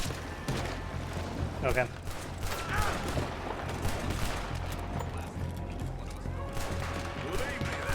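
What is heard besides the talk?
gunfire in Red Dead Redemption 2 video game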